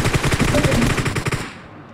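Automatic M416 rifle fire in PUBG Mobile on the Sanhok map, a rapid continuous spray of shots at close range, loud and rhythmic, trailing off into a short echoing tail after about a second and a half.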